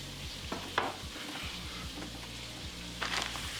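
Pigs in a blanket, sausages wrapped in dough, dropped into a pan give a steady quiet sizzle and frying hiss, with a few scraping stirs and clinks on top.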